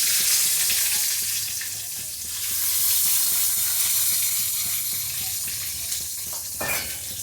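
Whole bay leaves and panch phoron hit hot oil in a pan for a vegetarian pumpkin-seed dish, giving a steady, loud, close sizzle that swells and fades slightly throughout, with no one speaking.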